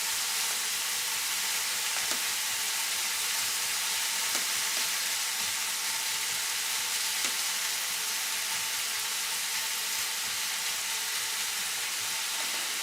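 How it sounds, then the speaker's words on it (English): Bacon sizzles and crackles steadily in a pan for a sandwich, a dense, even frying hiss with occasional small pops, close and continuous with no talk. "Trust me, bacon's frying."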